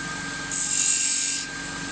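A wood lathe turns a juniper bud vase, giving a steady high whine that grows louder and brighter through the middle as the tool engages, then eases back to a quieter hum, with no talking.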